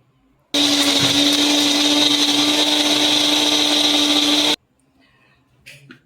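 A kitchen blender grinds a large garlic clove and an inch and a half of ginger into paste for chicken tikka masala. The loud, steady whir runs about four seconds and then cuts off, leaving quiet with a faint clatter.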